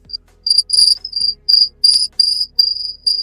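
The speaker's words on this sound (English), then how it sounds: "That was cricket." A cricket chirps loudly and close by in a quiet indoor room, giving repeated shrill bursts in an uneven rhythm.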